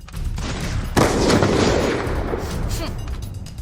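Dense, continuous bursts of gunfire from the video game Free Fire, loud and sustained with a sharp onset about a second in, blending with game ambience and faint voices.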